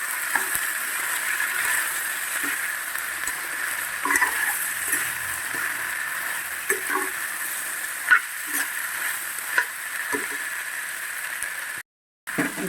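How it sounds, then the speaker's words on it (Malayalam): Carrots, beans, ginger, green chillies and garlic stirred in a pan, giving a continuous oily sizzle with scattered scrapes and taps of the spoon and a brief dropout near the end. "നന്നായിട്ടൊന്ന് ഇളക്കി കൊടുക്കാം."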